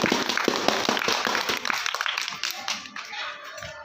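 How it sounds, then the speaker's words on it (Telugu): Applause from an audience at a school science drama about the global water crisis, many hands clapping densely and loudly at first, then thinning and fading over a few seconds. "గట్టిగా చప్పట్లు"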